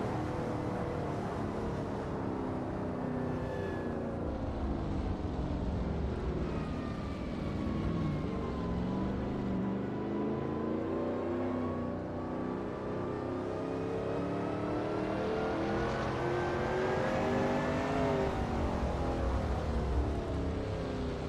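A Shelby Cobra 351 race car on the Bridgehampton track, its engine roaring continuously for about twenty seconds, pitch sliding down and climbing again through gear changes and acceleration, loud and steady throughout.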